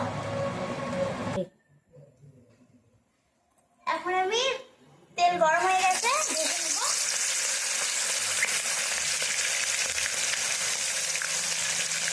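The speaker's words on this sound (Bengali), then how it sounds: "মাছটা আমি হালকা ভেজে নেবো" Bagari fish coated in salt and turmeric fries lightly in oil, with a steady hiss of sizzling that settles in after a short gap and brief high, chirpy voices near the start.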